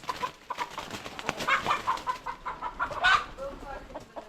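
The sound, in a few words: chickens clucking in trees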